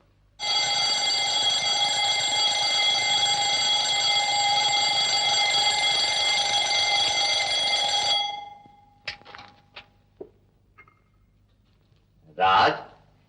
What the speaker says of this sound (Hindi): कब से अलार्म चिल्ला रहा है?